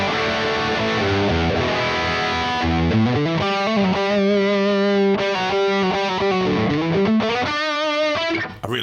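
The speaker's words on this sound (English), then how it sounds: "So this is what the Molly sounds like, just on a drive channel, bridge pickup," Driven electric guitar on a bridge pickup through a distorted amp's drive channel, bright and crunchy, playing a quick series of chords and notes with no talking.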